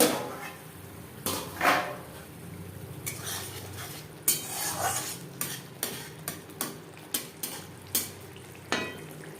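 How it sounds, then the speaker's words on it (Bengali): Spices being stirred and sautéed in a pan for a katla fish curry with tomato, a spoon scraping and clinking against the metal in a steady run of sharp strokes over a low background sizzle, close and fairly quiet, with no talking. "মশলা কষিয়ে নেব।"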